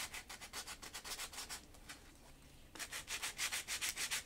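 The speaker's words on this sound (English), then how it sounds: "this will probably destroy this piece of sandpaper" Sandpaper rubbed by hand across the wood of a drawer, close up in rapid rhythmic back-and-forth strokes. A brief quiet pause comes midway, then the scratchy strokes resume.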